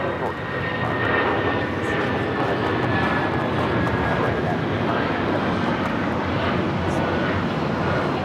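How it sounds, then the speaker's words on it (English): A United Airlines Boeing 757-200 takes off, its engines holding a loud, sustained broadband roar with a faint high whine through the run. "This is United Airlines 2722 taking off to Newark on the 757-200."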